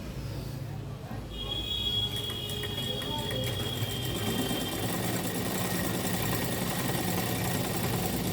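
A sewing machine stitching along a zip strip on fabric, running in a continuous close mechanical whir with steady rapid vibration, while a voice speaks over it.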